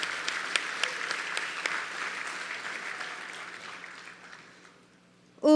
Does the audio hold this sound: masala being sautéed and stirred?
no